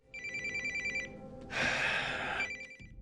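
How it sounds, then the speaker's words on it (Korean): A telephone rings in a film scene as a father calls his daughter: a clear electronic ring repeats in two bursts, separated by a louder, noisier stretch, with no talking. "딸에게 전화를 거는 피터."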